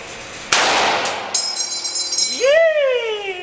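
A single loud gunshot cracks at a machine gun range with a ringing tail, followed by a person's excited, rising vocal cheer.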